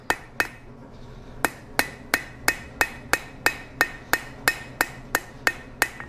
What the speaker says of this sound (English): hammering all along the length.